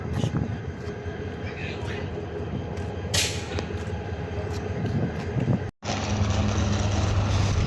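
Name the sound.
Kishoreganj Express train at Kishoreganj railway station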